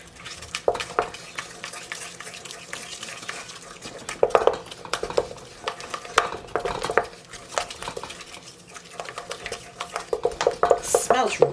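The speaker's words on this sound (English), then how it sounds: "I'm just going to give it a really good mix." Sourdough-recipe ingredients stirred with salt in a bowl, giving irregular scraping and clinking of a utensil against the bowl that comes in bursts and grows busier toward the end.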